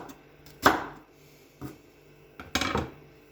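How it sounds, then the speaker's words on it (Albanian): Vegetables, including leek, being chopped for soup on a board, three distinct knife strikes spaced about a second apart, close and fairly quiet. "Shkojmë duke gri kështu."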